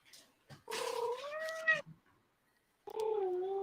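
A cat meows in long, drawn-out, wailing calls, close and loud: one sustained yowl, a short pause, then another begins, with a brief human voice murmur before it.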